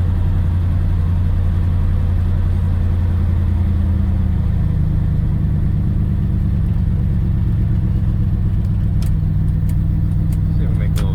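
A 1956 Dodge Regent's engine runs steadily as the car drives along, a loud continuous low rumble with road noise, a few faint clicks near the end, and no voices.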